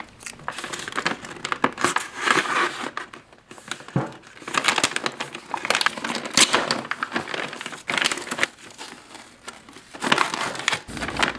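Heavy-duty foil laminate packaging of an Italian Mobile Carabinieri MRE being cut and pulled open, continuous loud crinkling and crackling in uneven bursts, close up with no talking.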